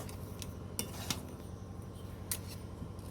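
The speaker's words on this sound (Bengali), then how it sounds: "আর একবার নেড়ে চেড়ে পাক করে নেব।" A spoon scrapes and taps against a pan while semolina dough with sugar and salt is stirred for rasgulla, several soft metallic clinks over a low background hum, fairly faint.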